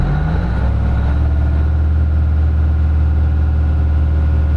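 A 1972 Peterbilt cabover truck with a well-worn Detroit diesel engine idles close up, a loud, steady, low rumbling drone with no talking.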